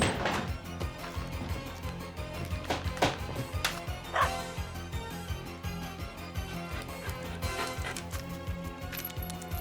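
A dog barks and yips repeatedly over a noisy, chaotic struggle in a thriller scene, with the barking close and loud throughout.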